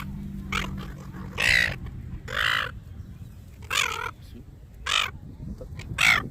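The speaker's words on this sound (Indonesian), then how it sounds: "Ini burung mengamuk." A noisy bird in Australia squawks angrily in harsh, raspy bursts, about six calls spaced irregularly over several seconds, close and loud against a low background rumble.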